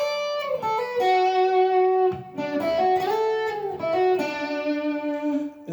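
Short electric guitar solo from a song, clean sustained bending lead notes with slides, played alone and fairly loud for about six seconds.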